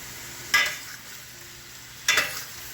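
Zucchini sautéing in a pan over medium-high heat, with two brief bursts of stirring and sizzle about a second and a half apart over a quiet background, no talk.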